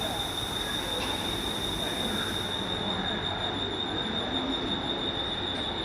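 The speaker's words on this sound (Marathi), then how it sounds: "हे बघा 6 नंबरवर ही गाडी लागली" A Mumbai suburban local train, a 12-car rake, pulls in at platform 6 with loud, steady wheel squeal and rail rumble, a bright sustained screech riding over continuous rolling noise throughout.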